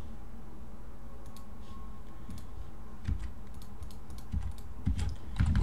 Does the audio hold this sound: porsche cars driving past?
no